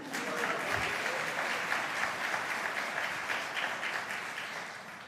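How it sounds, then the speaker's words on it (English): Dense, sustained applause from a live audience at a conference-style event, steady and full throughout with no talking over it. "Yes, applause."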